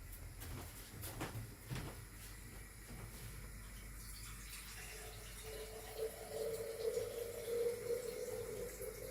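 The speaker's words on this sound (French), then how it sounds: "je pense que je vais rajouter encore de l'eau" Water poured into a pot of Kabyle couscous with vegetables, with a faint trickle that grows into a steadier pouring stream in the second half after a few light clunks.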